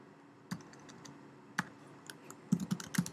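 Quiet, scattered keystrokes on a computer keyboard, a few isolated taps followed by a quicker cluster of clicks near the end.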